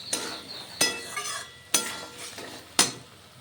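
Potatoes stirred into frying masala for ghugni, with four sharp scraping clinks of a spoon against the pan at a slow, irregular rhythm over a quiet sizzle.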